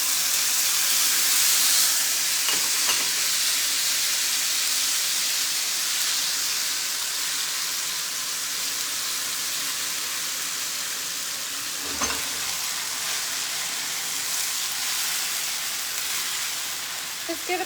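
Rough-chopped tomatoes and onions hiss loudly in a pan as they fry for biryani, a broad, steady sizzle that settles slightly over time, with occasional scrapes from stirring.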